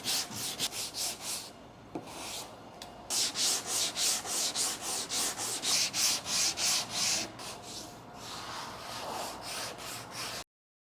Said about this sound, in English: It sands so easy.